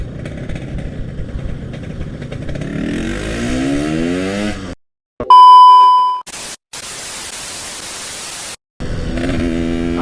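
Motorcycle engine revving and accelerating on a quiet Jakarta street, rising pitch sweeps loud and close, broken by a sharp electronic beep and a burst of hissing noise before the engine returns.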